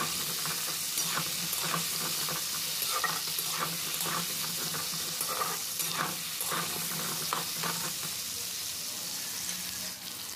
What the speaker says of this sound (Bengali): আলুটা যেভাবে ভাজলাম সেইভাবে পটলটাও ভেজে নিতে হবে।